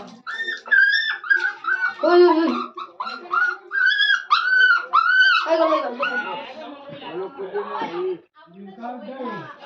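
A dog whimpers and whines in a series of high, wavering cries, close and fairly loud, with people talking over and between them.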